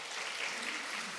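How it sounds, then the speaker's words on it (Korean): A church congregation in Ulsan applauds during a Sunday morning service after a new-member course completion certificate is presented, a steady, dense clapping that fills the room for the whole short stretch. "우리 박수 부탁하겠습니다"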